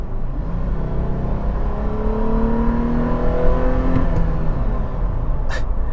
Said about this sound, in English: when you floor it in this